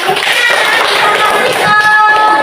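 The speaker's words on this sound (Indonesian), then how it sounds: "Kelompok 1 tepuk tangan untuk kelompok 1" Schoolchildren in a fourth-grade classroom clap together for group 1, a dense, steady wash of hand claps at close range lasting the whole moment.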